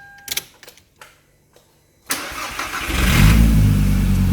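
Toyota MR2 with a VR5 turbo swap firing up through a makeshift temporary exhaust: a few clicks and cranking bursts, then the engine catches into a loud, rough, rumbling idle that swells and holds close by.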